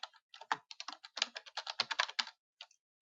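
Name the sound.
typing on a computer keyboard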